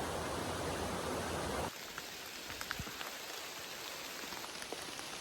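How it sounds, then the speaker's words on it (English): Heavy rain pours steadily on a hiking trail on the Appalachian Trail in Maine, a dense roar at first that abruptly drops to a softer, steady patter with scattered close drips. "it started pouring. And it is raining hard."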